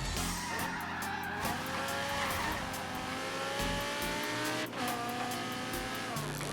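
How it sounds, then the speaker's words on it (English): A loud, continuous race car engine in Forza Horizon 3 revving and shifting through gears, pitch climbing and dropping, with tire squeals; no talking. "you can really hear that engine sing"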